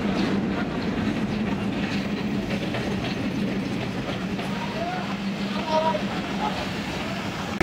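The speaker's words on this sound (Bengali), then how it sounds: "এই যে আমরা দেখতে পাচ্ছি এটি সেই টঙ্গিপাড়া এক্সপ্রেস, যে এই ট্রেনটি করে আমরা যাব ঈশ্বরদী।" The Tungipara Express passenger train pulls into a station with a heavy, continuous rumble and rhythmic clickety-clack of wheels, while voices talk nearby on the platform.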